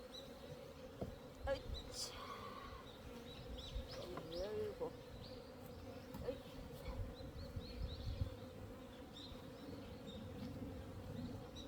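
Honeybees at an open beehive buzz steadily and close by, a dense continuous drone with individual bees passing near, a few faint bird chirps, and occasional handling noises from the hive.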